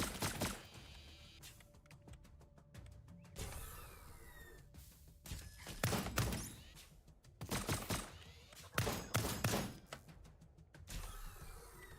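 Gunfire from the video game Lost Skies, a string of sharp, loud bursts and cracks at intervals over a steady background hum.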